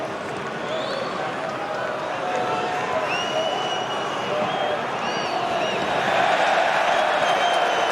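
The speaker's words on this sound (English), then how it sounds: "the crowd are getting restless" Football crowd at a Sweden v Republic of Ireland match grows restless late in the game, a dense, steady stadium roar with murmuring and occasional whistles, swelling slightly toward the end.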